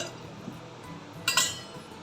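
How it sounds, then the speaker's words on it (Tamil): A lid set onto a steaming pot of sweet kozhukattai, a quiet room followed by a short metallic clink and rattle as it settles, close and brief. "இப்போ நம்ம மூடி வச்சிடலாம்"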